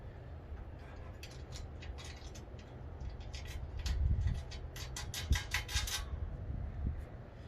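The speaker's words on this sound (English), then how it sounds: "We're going to put a nut and a washer on everything, and then tighten her up." A ratchet tightens nuts with washers on a DV8 Offroad Chase Rack on a Jeep Gladiator, with quick runs of metallic clicking up close and some low handling thumps.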